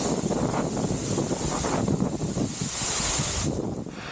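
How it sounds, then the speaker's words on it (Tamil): Water from the 270-foot Talakona waterfall near Tirupati pours down in a constant, roaring wash of noise, heard up close with wind buffeting the microphone and no talking. "அந்த அருவி அங்கே கொட்டிகிட்டு இருந்த அருவி"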